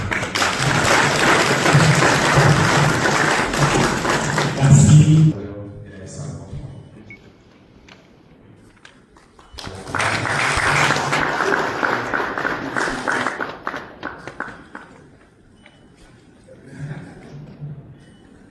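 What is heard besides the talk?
audience applauding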